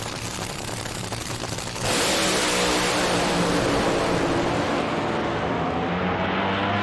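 A nitro-burning AA/FD top fuel dragster at the Bakersfield March Meet erupts after a quieter lead-in into a sudden, overwhelming, sustained roar that stays loud and close until the end.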